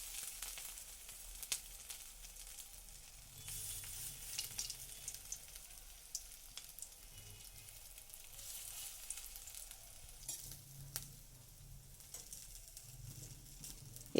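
Cauliflower pieces fry in oil in a wok, giving a steady soft sizzle with brief louder bursts of spattering at a close distance, and no talking over it.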